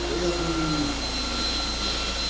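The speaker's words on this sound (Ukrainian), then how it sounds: "Бачите, як плавно скидає оберти" The diesel engine of an Opel Vivaro van, just after a filter regeneration, winds its revs down smoothly into a steady, close, droning idle hum.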